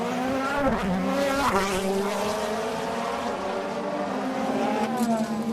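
Paffett's DTM touring race car pulls into the pits at the Norisring street circuit for a refuelling stop, its loud engine droning and shifting pitch close by, with other race engines sweeping past in the background.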